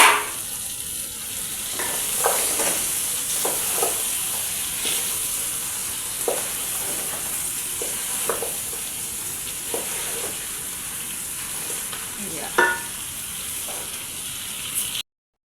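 Carrots and garden eggs fried in a saucepan with tomato paste give a continuous, close sizzle and hiss, broken by occasional stirring scrapes and clinks, with no talking.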